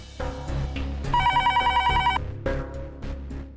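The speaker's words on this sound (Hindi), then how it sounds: "फोन है।" A telephone rings with a rapid electronic trill for about a second, over music and background sound in a Hindi TV serial.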